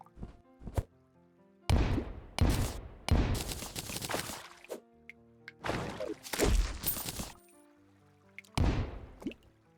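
Bombs go off in a heavily modded Terraria game: a string of sharp crunchy blasts, several in quick clusters with gaps between, bursting over soft background music.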